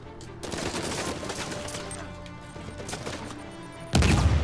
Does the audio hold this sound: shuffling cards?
no